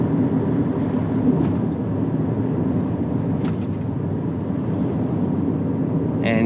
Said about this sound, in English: And you can hear the rougher road.